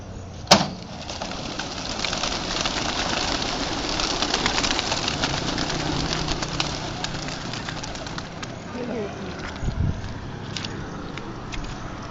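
A sharp clap, then a flurry of wing flapping and bird noise as racing pigeons are released in mountainous country, against steady wind and rumbling outdoor background.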